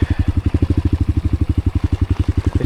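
Dirt bike engine on a motocross track droning close and loud in a steady rapid pulsing rhythm, the revs holding level throughout.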